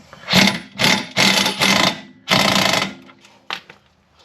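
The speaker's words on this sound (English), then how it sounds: "do that bolt up." Rear shock bolt being tightened on a Jeep Cherokee KL with a power tool: several loud, close buzzing mechanical bursts in quick succession, followed by a short final burst.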